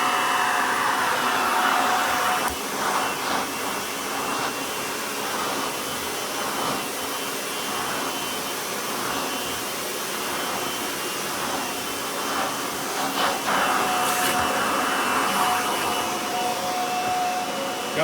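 A Kirby Ultimate G3 prototype upright vacuum cleaner runs with a loud, steady motor whine and rushing airflow, holding constant for the whole stretch.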